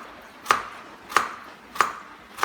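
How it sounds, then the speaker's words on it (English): A knife chops through a long vegetable for a salad on a cutting board, four crisp evenly spaced cuts in a steady rhythm, close and clear. "I'm going to cut it in half, then I'm going to slice it"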